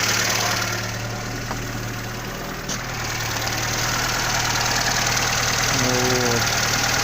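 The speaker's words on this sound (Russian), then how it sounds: "Работает как обыкновенный жигулевский двигатель." Zhiguli car engine running on test after warm-up, a loud, steady idle with an even low hum and slight vibration, continuous and close with no talk.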